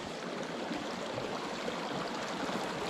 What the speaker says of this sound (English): That waterfall down here.